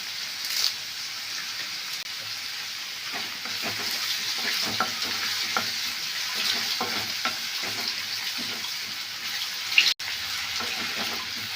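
Onions and curry leaves fry in a pan with a steady sizzle, broken by occasional stirring scrapes and a brief sharp clank near the end; no voices.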